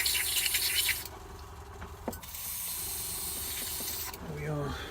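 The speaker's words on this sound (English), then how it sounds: "fresh water's going in." Fresh water spraying and hissing through an airbrush as it is flushed clean, with a bright spray hiss broken by short pauses and drips, close and moderately loud.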